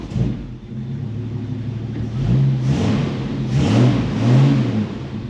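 An AMC 258 engine in a Studebaker truck, fitted with a cheap carburetor, idles roughly, then revs unevenly several times, the pitch sagging and hesitating at a flat spot as it tries to pick up.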